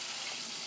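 Cold water gushes steadily from a kitchen sink tap, a close, even hiss of running water that fills the whole brief moment.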